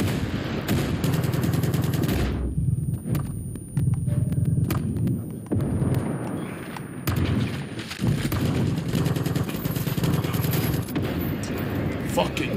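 Heavy, nearly continuous gunfire in Far Cry 4 multiplayer rattles in dense automatic bursts, broken by a few short lulls, with a player talking throughout.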